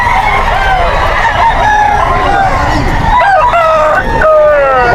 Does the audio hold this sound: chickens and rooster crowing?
yes